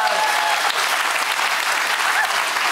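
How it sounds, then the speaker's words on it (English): Studio audience applauding for Davina, a dense, loud wash of clapping from many people that holds steady throughout, with a few voices faintly underneath. "Round of applause. For Davina"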